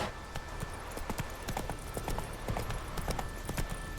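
Roach the horse gallops in The Witcher III, hooves clip-clopping in a quick, steady rhythm, close and clear over a low ambient bed throughout.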